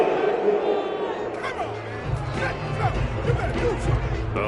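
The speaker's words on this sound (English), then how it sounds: "this crowd does not like that call" A stadium crowd at a UFL football game reacts to a penalty flag, a broad, loud swell of voices and jeers building under commentary.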